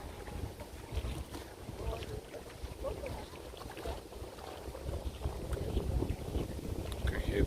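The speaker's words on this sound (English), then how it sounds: "you can hear the water" Water laps and splashes near Central Park on a hot, windy day, with gusts buffeting the microphone and a continuous, moderately loud churn.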